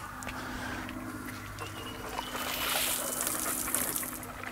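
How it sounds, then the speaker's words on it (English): Water sprays from a garden hose nozzle fitted to an Eley hose reel, a steady hissing stream that grows slightly louder partway through and continues for several seconds, heard close. "So this is the water nozzle for watering plants."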